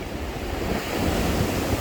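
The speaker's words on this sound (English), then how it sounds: "these lovely views of the rolling waves just approaching now the steps of Blackpool Promenade" Sea waves roll up onto the steps of Blackpool Promenade, with a close, continuous wash and surge of surf under gusting wind.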